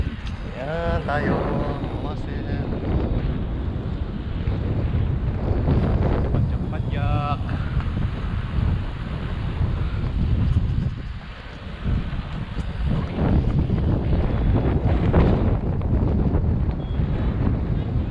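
Strong wind buffets the microphone in a constant roar throughout, with people speaking faintly beneath it.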